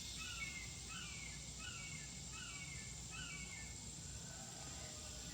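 A red-shouldered hawk calls outdoors in the morning, giving a faint, distant series of about five repeated cries over quiet background noise.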